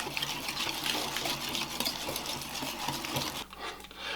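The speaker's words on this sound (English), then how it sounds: "And we're going to whisk this together again." Ricotta cake batter being whisked steadily in a bowl, a continuous wet, swishing stir that runs loud and close for about three and a half seconds before easing off.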